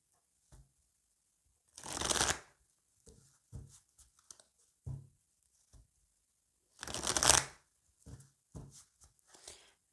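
Oracle cards are shuffled for a reading, with two distinct bursts of riffling cards separated by a pause and several softer taps and handling sounds between them, close and fairly quiet.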